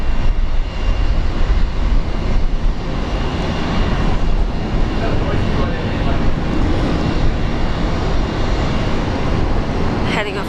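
A Qantas Link airliner takes off from Brisbane airport, a loud sustained jet engine roar holding steady throughout and heard close and alone.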